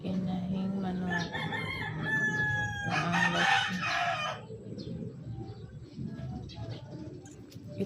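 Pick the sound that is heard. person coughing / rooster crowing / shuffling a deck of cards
rooster crowing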